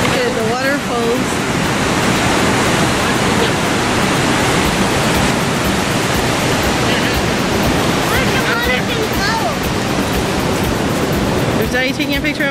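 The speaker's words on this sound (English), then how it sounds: "Look at the big waterfall." Large waterfall at Parc des Chutes in Rivière-du-Loup, Quebec roars as a loud, steady rushing wash close by, with children and adults talking over it.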